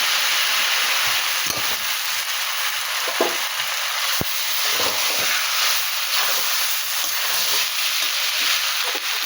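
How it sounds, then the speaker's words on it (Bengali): Sago grains with cardamom stir-fried in a wok over high flame give a constant loud sizzle and hiss, with scattered scraping and tapping from stirring and no talking. "সাবুগুলো ভালো করে নাড়াচাড়া দিয়ে একটু ভেজে ভেজে নেব।"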